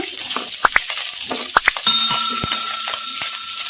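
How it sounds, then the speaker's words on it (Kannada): Onions, cinnamon and cloves frying in a pan on a medium flame, a soft steady sizzle broken by sharp clicks and clinks of a spoon stirring against the pan. "ಇವನ್ನೆಲ್ಲ ಮೀಡಿಯಮ್ ಫ್ಲೇಮಲ್ಲೇ ಫ್ರೈ ಮಾಡ್ಕೋಬೇಕು ಈ ಥರ ಕಲಸ್ಕೊಂತ ಫ್ರೈ ಮಾಡ್ಕೋಬೇಕು"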